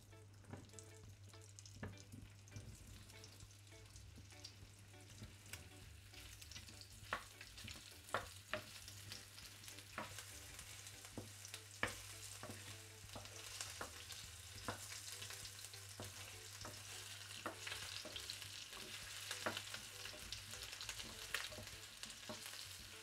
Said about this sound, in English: add some more oil and fry the potatoes. You stir fry them for a couple of minutes.